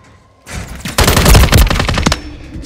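Rapid automatic gunfire from the video game Modern Warfare 3 in multiplayer, loud close bursts of machine-gun shots clattering in quick succession after a brief quiet lead-in, with no talking.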